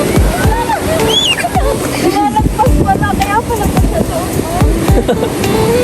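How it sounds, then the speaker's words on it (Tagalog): Strong ocean waves at high tide wash and splash on the shore, a steady, loud rush close by with wind buffeting the microphone. Voices talk over the surf. "Grabe yung alon."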